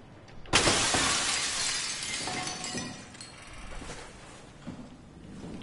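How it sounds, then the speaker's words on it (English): Glass shattering loudly in the sci-fi horror game SOMA, a sudden crash followed by tinkling shards and scattered debris for several seconds. "I went right through that glass."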